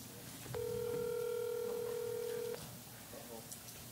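Telephone dialing tone on a speakerphone at a magic show, one steady electronic tone lasting about two seconds over faint room noise.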